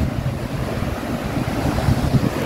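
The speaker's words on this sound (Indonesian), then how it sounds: "Nah ini lautnya. Hati-hati di sini juga anginnya kenceng." Strong wind and sea waves at the Puncak Segoro clifftop in Gunungkidul, a loud continuous roar with gusts buffeting the microphone and no voices.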